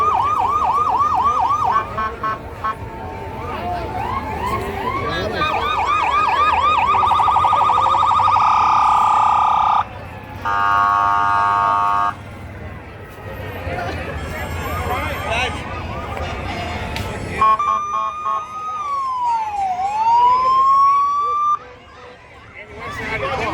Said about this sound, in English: Fire trucks. The sirens.